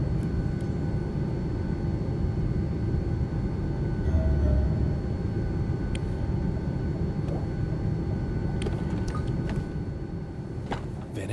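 A steady, loud rumbling drone fills the cabin of an airplane in flight in the video game D4, broad and constant, with faint ticks and clicks over it and no speech.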